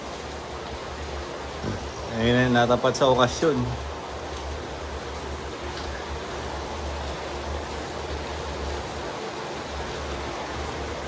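Steady rain falls at a resort, a continuous broadband hiss throughout, with someone talking briefly near the start.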